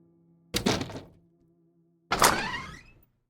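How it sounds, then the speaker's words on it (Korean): A front door swung open as a story sound effect: two loud, close wooden thunks about a second and a half apart, each with a rattling, decaying tail, over a faint steady hum. "아내가 의자를 밀치고 현관문을 여는 소리가 들려왔다"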